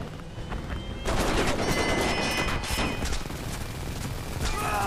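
Enemy gunfire in the Homefront multiplayer game, rapid bursts of automatic shots and crackling fire over a dense battle din, loud and close, starting abruptly after a quieter opening second.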